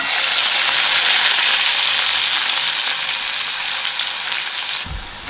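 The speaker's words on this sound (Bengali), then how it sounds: "তেল গরম হয়ে গেছে তেলের মধ্যে আমি দিয়ে দিচ্ছি দুটো মিডিয়াম সাইজের পেঁয়াজ কুচি" Chopped medium onions sizzle loudly in hot mustard oil, a dense steady frying hiss that runs without pause and drops away sharply near the end.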